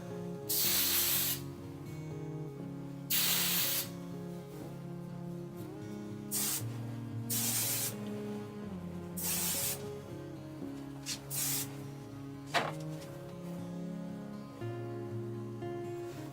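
Repeated bursts of hairspray onto curled hair, short aerosol hisses separated by pauses over soft background music, close to the microphone.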